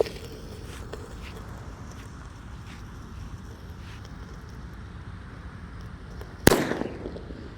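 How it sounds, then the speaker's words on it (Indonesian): A mercon petir firecracker goes off with a single loud, sharp bang near the end, its crack trailing off briefly after several seconds of quiet outdoor wind and ground rustle. "Lanjut yang akan kita nyalakan di sini ada mercon petir teman-teman."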